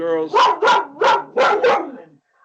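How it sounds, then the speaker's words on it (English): Dogs bark five times in a quick, close, loud burst, then fall silent. "I'm sorry, my dogs are acting up."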